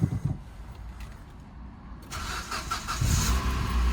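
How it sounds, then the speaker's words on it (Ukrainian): An old car's engine cranks and catches on its first start, settling into a steady idle after a quiet stretch with faint mechanical noise. "Так що зараз буде перший запуск."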